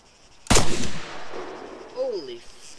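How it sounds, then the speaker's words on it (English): In the video game Arma III, a .50 cal machine gun lets off a sudden loud blast of fire that rings out and decays over about two seconds, followed by a short rising whine. "He came up right on me in a 50 cal."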